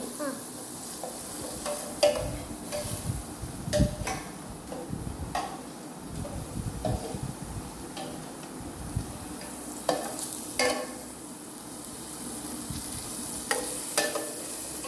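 Ingredients for a chicken curry sauté in a pan, a soft continuous sizzle broken by repeated scraping strokes of a spoon stirring against the pan, fairly close and with no talking.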